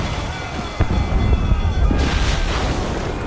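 Ship cannons fire a broadside in the video game Assassin's Creed 4 Black Flag, giving heavy booms and rumbling blasts over a dense, noisy battle din.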